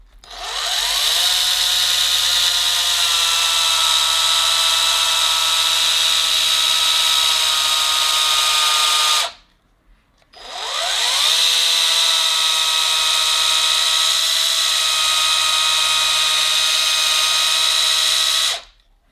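A Liquid Elements A1000 mini polisher runs in rotary mode as two long, loud, steady motor whines, each spinning up then cutting off, separated by a short pause.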